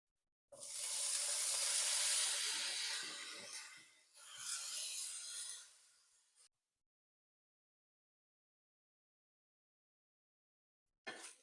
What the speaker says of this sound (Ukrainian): і будемо смажити наші гриби